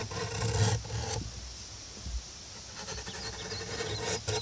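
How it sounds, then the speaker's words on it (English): A wood file rasping over a polymer-filled crack in a log, repeated scratchy strokes in bursts with a short pause between, close and moderately quiet outdoors. "I used the wood file on the side where the crack was filled with the polymer."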